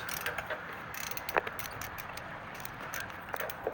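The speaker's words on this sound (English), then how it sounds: "We're gonna get the torque wrench on." A torque wrench ratchets softly while tightening a spark plug on a Honda Pilot, giving a few faint mechanical clicks against a low background hiss.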